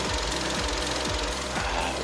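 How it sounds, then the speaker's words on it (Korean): A Kia K5 LPI LPG sedan's engine idles in the open engine bay, a steady mechanical hum with regular ticking pulses repeating about twice a second, heard close with no talking. "자 엔진룸 보시면 자 엔진 소리 들리시나요?"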